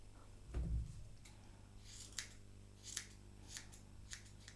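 Scissors trimming a guinea pig's hair give a few faint, crisp snips at spaced intervals, quiet and close, after a brief low rustling thump near the start.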